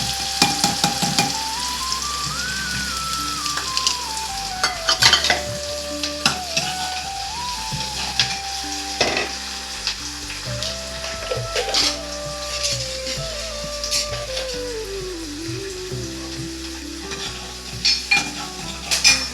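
Onions, dried red chillies and curry leaves sizzle loudly in hot oil while being stirred, with continuous close frying crackle and scraping stir strokes; a voice speaks over the cooking.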